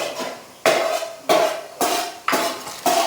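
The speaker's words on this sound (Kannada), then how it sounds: "ಮತ್ತೆ ಮೆಣಸಿನ್ಕಾಯಿನ ಕಟ್ ಮಾಡೋದು ಹೇಳಿ ಕಟ್ ಮಾಡ್ತಾ ಇದ್ದೀನಿ" A knife chops green chillies on a cutting board with five or six steady, evenly spaced knocks, each with a bright clack of the blade hitting the board, close and clear.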